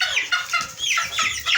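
Kuroiler chickens cluck and chatter in a repeated, close-up flurry of calls, with several birds overlapping in bursts throughout.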